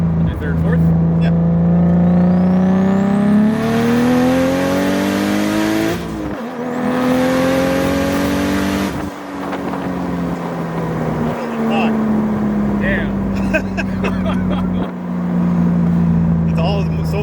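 A big-turbo BMW E36 convertible pulls at full throttle on a dyno, the engine rising in pitch through long loud sweeps, shifting, then climbing again, with voices talking over the roar.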